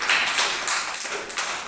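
Children in a classroom clap together as a group reward during a picture game of naming fruits, a short, dense burst of many small hands patting steadily at close range.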